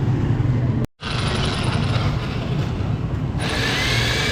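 Electric drill with a 1.8 bit drilling out a broken screw on a Raider 150 motorcycle, a continuous grinding motor whir with a brief cut-out near the start, close and steady, with no speech.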